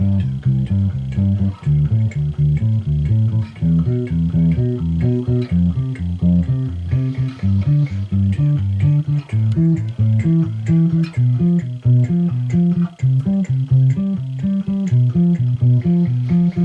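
Root and fifth notes in a paradiddle sticking pattern, played in steady, even, rhythmic pulses that step up and then back down a major scale, loud and clear with no voices.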